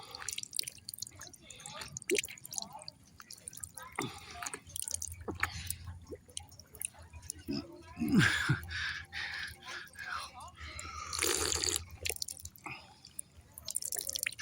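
Water runs and drips from a pipe in short bursts and scattered drops, fairly close, with someone talking over much of it.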